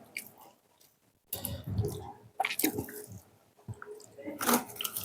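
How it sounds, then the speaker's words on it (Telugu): During a home eating challenge with chicken, egg, puri and banana, someone chews quickly and wetly in close, uneven bursts, with short pauses in between. "తినేస్తున్నాను ఫాస్ట్గా."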